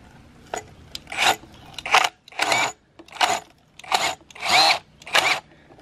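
A power drill backs old, corroded drywall screws out of a ram pump that has been underwater, giving about eight short whirring bursts with brief pauses between them, close and fairly loud.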